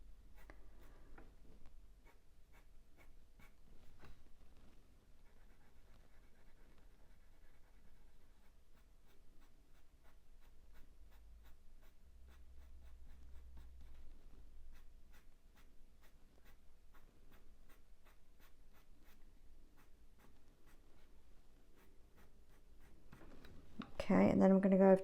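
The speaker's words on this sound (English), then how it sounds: "I'm doing long sweeps to replicate that with my pencil" Coloured pencil in light ochre makes long sweeping strokes on paper while feathers are drawn, a soft continuous scratchy rubbing heard close, ending with a louder rustle.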